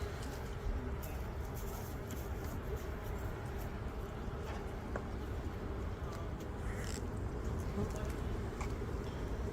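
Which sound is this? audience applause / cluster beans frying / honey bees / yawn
honey bees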